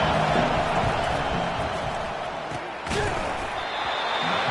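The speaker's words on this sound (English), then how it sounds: "Decibels rising as the crowd gets behind this defense on 3rd down." College football stadium crowd, Auburn versus Notre Dame, roaring behind the defense on third down, a loud, steady wall of cheering with one sharp bang partway through.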